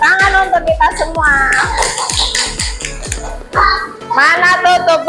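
Schoolchildren in a classroom clap together at the teacher's cue, a run of sharp, rhythmic claps mixed with children's voices and talk throughout.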